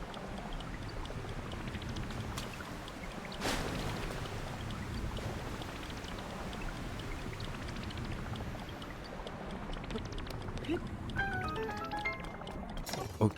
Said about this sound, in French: On remonte la cascade.